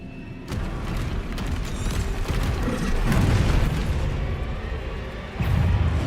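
Deep booming blast of the Confringo fire spell in Hogwarts Legacy, a heavy rumbling explosion that swells through the middle, with a second strong burst near the end.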